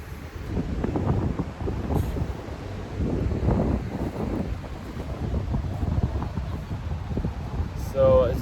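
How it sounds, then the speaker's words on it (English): Wind blows outdoors into a handheld microphone, giving a continuous loud low rumble with gusty buffeting swells throughout. "Hopefully, it's not too windy here."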